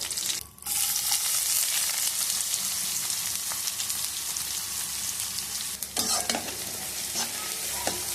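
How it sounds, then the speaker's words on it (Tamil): Onions with cinnamon, cloves, fennel and curry leaves sizzle loudly in oil in a kadai, a dense continuous frying hiss with a ladle stirring and scraping through it, plus a few sharper clatters toward the end. "கொஞ்சமாக ஆனியன் மிக்ஸ் பண்ணிக்கிறேன்"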